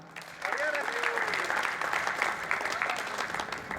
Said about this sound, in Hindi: तो तालियां बजाइएगा फानी जोधपुरी को सुनने के लिए